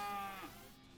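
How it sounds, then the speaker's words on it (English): A short synthesized cow moo from the game West of Loathing, a single drawn-out bleating low call that fades after about half a second, quiet and alone. "Was it the moo that disabled everyone for a turn?"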